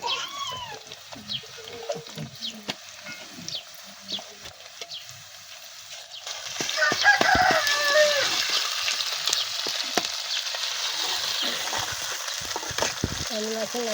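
Ginger paste sizzles and spatters in hot oil in a pan for a fish curry, the frying rising louder after a quieter start, with faint clinks and a voice in the background.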